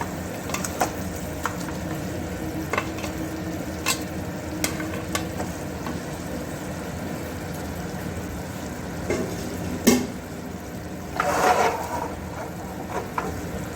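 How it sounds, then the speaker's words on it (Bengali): Chicken drumsticks in sauce stirred in a pan over a high gas flame: a steady, close sizzle with intermittent scrapes and clacks of the spoon, and a louder burst of sizzling near the end, alone. "আমি একটা একটা করে ড্রামস্টিকগুলো দিয়ে দিচ্ছি এবং সসের মধ্যে আমি একটু নাড়িয়ে দিচ্ছি"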